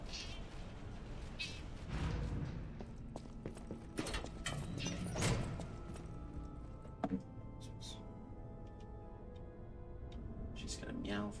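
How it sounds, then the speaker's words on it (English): A cat meows repeatedly in the Lies of P video game, its cries mixed with clopping footsteps and other game sounds, with a voice speaking over parts of it. "She's gonna meow for a century."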